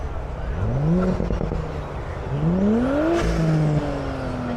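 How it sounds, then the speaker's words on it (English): An Audi S5 engine revs up twice in rising sweeps at a car event, with a muted, fairly distant tone and a short whir between the pulls. "That S5 sounds well muted in comparison."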